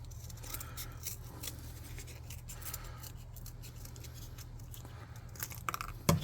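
Scissors cut out a piece of marked paper or card while a terrain scrap tower for a tabletop RPG is being built, giving faint, steady snipping and rustling close by, with a louder snip and handling at the end.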